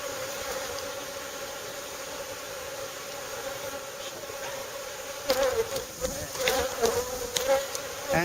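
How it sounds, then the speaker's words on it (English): Honey bees buzz steadily in a swarm that includes a drone bee, a constant close hum that grows louder and busier midway with some handling noise. "He's a drone. That's a male bee."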